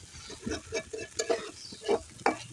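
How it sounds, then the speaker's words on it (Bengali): A spoon stirs pointed gourd mash in a pan, giving a series of soft scraping strokes in an uneven rhythm over a faint sizzle, close and fairly quiet. "বেশ কিছুক্ষণ ধরে এভাবে নেড়ে চেড়ে আমি ভর্তাটাকে তৈরি করে নিব"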